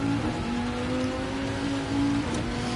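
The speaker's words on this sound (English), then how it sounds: "We got a lot of rain." Steady rain hisses and patters continuously in a racing video game, with a low engine-like hum running underneath; no voices.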